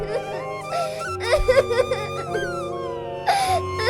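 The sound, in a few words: woman crying in a dense forest, story sound effect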